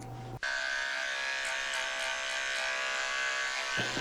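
Electric clippers fitted with a 30 blade buzz steadily and close while shaving the foot pads of a shih tzu, switching on just after the start and running alone with a few brief changes in pitch.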